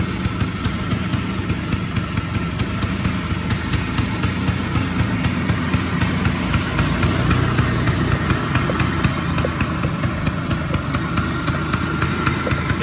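Close and loud, a 1977 Vespa Sprint scooter with a DGM exhaust idles steadily, its engine running smooth and even throughout with no talking.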